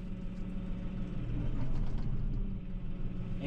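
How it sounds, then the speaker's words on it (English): A New Holland Workmaster 55 tractor engine runs with the PTO engaged in fourth gear, medium range, throttle down, as a steady close low diesel rumble that swells slightly midway, with no talk. "start the PTO with the throttle down"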